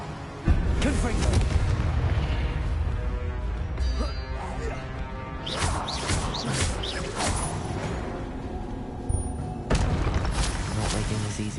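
Spell combat in Hogwarts Legacy including a Confringo blast: a dense run of booming impacts, crackling bursts and magical effects stacked closely together, with several sharp onsets across a loud game soundscape.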